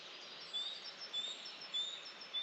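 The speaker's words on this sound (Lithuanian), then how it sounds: "paukštelių klegesiai aplink" Faint, thin bird chirps repeat at steady intervals, short high notes over a soft, constant background hiss, far off and quiet.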